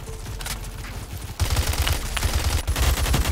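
Gun firing in the video game Phantom Forces, a rapid run of shots that gets louder and denser partway through and continues to the end.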